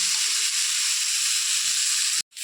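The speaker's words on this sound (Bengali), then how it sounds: "পেঁয়াজ, কাঁচা লঙ্কা দিয়ে একটু ভাজা ভাজা করে নিচ্ছি" Chopped onions and green chillies frying in oil in a pan give off a loud, steady hiss and sizzle that runs on without a break and cuts off abruptly near the end.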